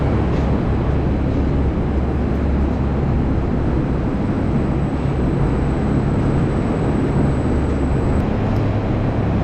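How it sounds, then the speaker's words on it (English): Large belt-driven fan in a dairy barn running steadily, a loud continuous broadband whoosh and drone with a low rumble, unbroken throughout, no talk over it. "I turned it on and it spun pretty good, except there was a slight vibration"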